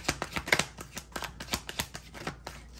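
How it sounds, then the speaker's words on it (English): A deck of tarot cards being shuffled up close, a rapid series of crisp riffling slaps and flutters repeating steadily throughout. "I'm sorry if this is so loud, shuffling these cards."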